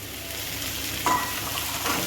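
Chopped beetroot, potato and green chilli frying in a pan for a mini cheese singara filling, a steady soft sizzle with a brief stir near the middle, close and continuous with no voices.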